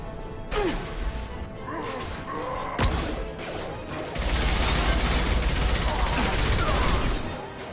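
Gunfire in the video game Mass Effect 2, dense loud bursts and crashes of weapon fire with a sharp crack near the middle, continuous combat noise swelling louder in the second half.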